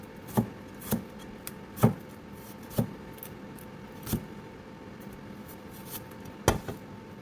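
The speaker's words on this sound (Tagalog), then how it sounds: "Ganito i-slice natin sa garlic para doon sa karne." Sharp knife cuts slicing garlic on a board, about ten separate chops at an uneven, unhurried pace, close and fairly quiet, with no talking.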